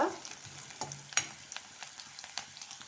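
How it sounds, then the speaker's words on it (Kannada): Gentle, steady sizzling of chopped onions frying in a pan until just translucent, with occasional light clicks and taps of stirring, fairly quiet and with no voices. "ಇಷ್ಟಾದರೆ ಸಾಕು, ಈರುಳ್ಳಿ ಫ್ರೈ ಆಗಿದೆ ನೋಡಿ"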